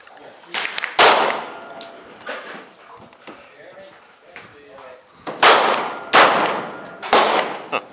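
Sharp, loud gunshot reports from 9mm rounds fired through a 12 gauge shotgun fitted with a chamber adapter: one crack early, then a quick cluster of three near the end, with people talking between shots outdoors.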